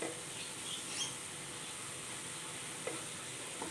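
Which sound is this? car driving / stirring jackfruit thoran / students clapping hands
stirring jackfruit thoran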